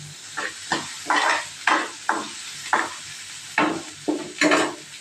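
Tamarind is sautéed in a pan for cabbage chutney, with a light sizzle under a regular series of about nine crisp spatula scrapes and stirs, close by and without any talking.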